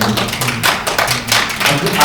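Clapping from the audience at a Korean National Assembly suicide-prevention policy seminar comes in uneven bursts of close, loud hand claps, with someone talking over them.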